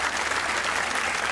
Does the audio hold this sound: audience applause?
yes